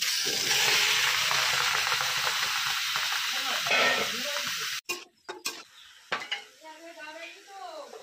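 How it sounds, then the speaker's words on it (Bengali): Chopped tomatoes for homemade tomato sauce hit a hot wok with a loud, steady sizzle, then clanks of utensils against the pan and softer bubbling take over, with no talk. "টমেটো কাটা হয়ে গেছে, কড়াতে দিয়ে দিচ্ছি।"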